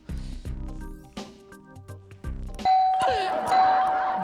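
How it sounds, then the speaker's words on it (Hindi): A doorbell rings in a home, its bright chime tones sounding in sequence, the first strikes fairly clear and the later ones ringing out over a busier, noisier background. "हाँ, ये तो दरवाजे की घंटी है"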